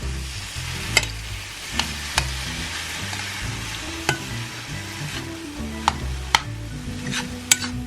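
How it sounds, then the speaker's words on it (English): Pumpkin and mushroom pierogi filling cooks in a pan and is stirred, giving a steady low sizzle broken by repeated sharp scrapes and clinks of the utensil against the pan, close and moderately loud, with no talking. "Now I'm going to cook off some of the moisture. Mix it all together now."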